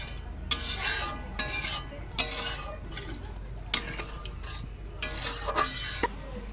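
Fish curry with water added bubbles and boils in a pan, heard as close, intermittent bursts of bubbling and spattering with occasional clinks, without speech.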